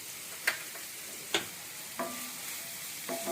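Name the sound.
curry leaves and green chillies stirred into hot pan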